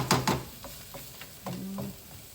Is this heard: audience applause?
no